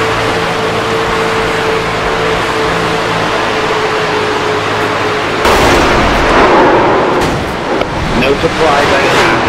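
Engine hum from racing cars in iRacing abruptly gives way to a loud burst of crunching impact noise as the first- and second-place cars wreck, with a voice talking over it.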